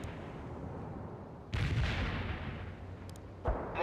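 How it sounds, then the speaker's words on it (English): Mortar barrage from the video game World in Conflict: distant booming impacts, two separate heavy thuds with rumbling tails over a low background. "Mortar barrage delivered."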